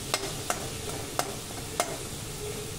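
Cauliflower, capsicum and tomatoes cook in a pan, a soft steady sizzle under a few sharp spatula scrapes and taps at uneven intervals, close and without talk.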